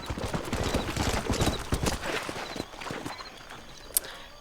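Horse hooves clip-clop steadily at close range in the Western video game Red Dead Redemption, a quick rhythmic walking gait that fades out near the end, with no talk over it.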